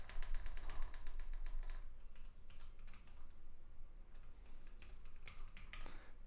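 Fast clattering keystrokes on a non-standard travel computer keyboard, a dense run of quiet close taps with brief pauses.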